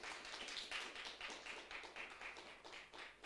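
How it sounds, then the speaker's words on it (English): Faint, distant applause from a small audience at a talk on larp and climate change, a light patter of individual claps pulsing irregularly throughout. "So round of applause, that's the first thing."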